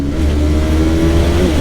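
A Honda CB150R 2021 motorcycle engine revs hard in fourth gear, a loud, steady, close-up mechanical whine climbing toward high rpm with no pauses.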